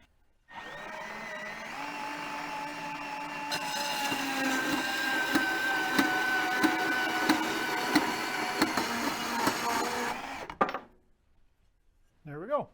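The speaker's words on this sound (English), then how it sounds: "I got this little bandsaw thingy here" A small bandsaw cutting pieces of a Harbor Freight style blasting cabinet, a loud, steady whining drone with rasping bursts as the blade bites, stopping abruptly near the end before a brief voice.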